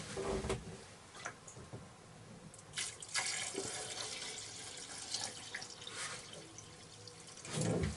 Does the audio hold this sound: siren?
no